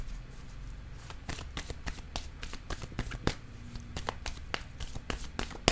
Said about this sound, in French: Je vais déposer une carte sur le militaire pour en savoir un peu plus sur le militaire.